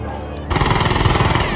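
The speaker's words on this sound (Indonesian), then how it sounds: "Baku tembak pun terjadi." Sudden burst of rapid automatic gunfire in a Terminator film shootout, loud and continuous after a brief quieter lead-in, with dense rattling shots filling the scene.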